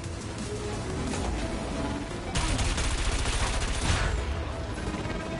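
Plasma weapon fire in the futuristic racing game Wipeout VR, heard as a dense, continuous burst of rapid crackling shots over a loud engine roar, growing brighter and heavier partway through.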